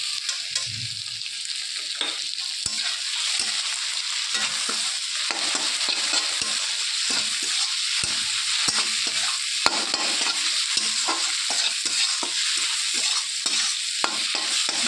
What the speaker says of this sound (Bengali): দিয়ে চিংড়ি মাছটাকে বেশ ভালো করে মশলার সঙ্গে ভেজে নেব।